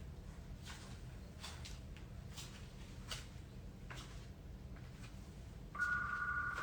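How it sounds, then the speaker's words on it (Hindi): A telephone rings in a live video from a Bhojpuri singer, a faint repeating electronic ring cycling under low background noise. "अरे फोन आ रहा है।"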